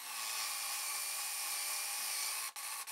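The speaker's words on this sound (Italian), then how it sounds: "Andiamo ad inserirlo nel nostro avvitatore, questa volta posizioniamo il jig nella dima in via definitiva e andiamo a forare" A cordless drill fitted with a hinge-boring jig bores a cabinet hinge hole, giving a loud, steady high-pitched whine that cuts off near the end with a couple of brief stops.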